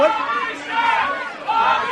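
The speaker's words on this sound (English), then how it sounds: "They're chanting for Bobby Shaft." A crowd of St. Patrick's Day partygoers chants and yells in unison for Bobby Shaft, a loud, rhythmic mass of voices that rises, dips slightly, then surges again.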